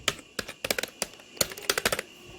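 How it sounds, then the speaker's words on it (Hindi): Keys clatter on a mechanical keyboard with deep-travel keys, a close, crisp run of uneven taps in quick bursts with short pauses between, heard alone in a quiet room. "जब आप टाइप करते हो तब उसके मतलब कीबोर्ड जो है साउंड प्रोड्यूस करता है, जैसे कि ऐसे।"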